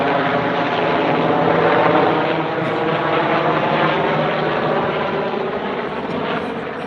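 A helicopter flies overhead, its rotor and engine roar loud and steady throughout before easing slightly toward the end.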